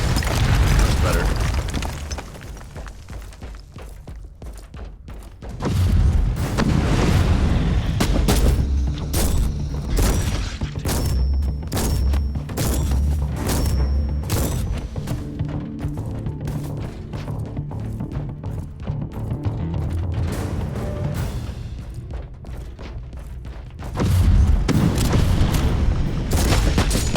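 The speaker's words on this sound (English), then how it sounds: "Shotgun's just making a mess of these units." Repeated shotgun blasts in Warhammer 40,000: Inquisitor – Martyr, heavy booming shots firing in quick succession amid explosions and clanking combat effects over a loud, steady game soundtrack.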